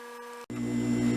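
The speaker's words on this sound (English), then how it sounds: "The motor is still running very smoothly, and it is not overheated." A Delta Unisaw table saw motor, rebuilt and under evaluation, hums steadily at close range with a brief dropout before the drone resumes, slightly louder and fuller.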